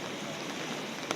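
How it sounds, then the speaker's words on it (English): Rain pours onto an umbrella in deep woods during wild camping, a brief, close, steady dense hiss with no voices. "Rain is coming down now."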